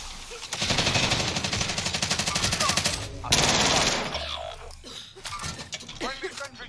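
Rapid automatic gunfire rattles loudly through an online multiplayer shooter match, a sustained burst, then a short pause, then another long burst, followed by quieter in-game sounds and voices.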